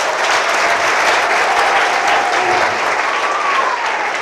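Audience applause at a youth forum gathering in Lubumbashi, a steady, dense wash of clapping from a large crowd that holds at full strength throughout with no talk over it.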